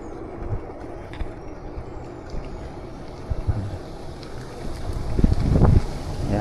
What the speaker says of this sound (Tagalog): Yan, mahangin dito.